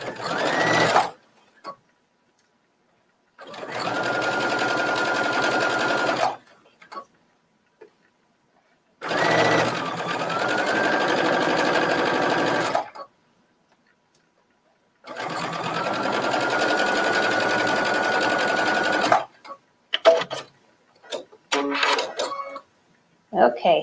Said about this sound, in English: I'll just stay stitch right there just to make sure I secure my stitch